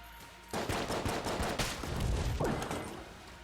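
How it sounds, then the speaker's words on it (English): Rapid revolver gunfire from the video game Enter The Gungeon, a quick run of sharp repeated shots starting abruptly after a brief quiet lead-in, loud and continuous with no talking. "might as well just use the revolver"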